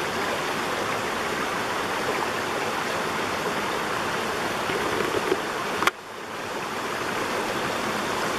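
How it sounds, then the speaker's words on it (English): A creek's water rushes steadily, a broad continuous flowing roar, briefly interrupted by a sharp click and a muffled dip before the flow resumes. "Of course, this is Rausch Creek."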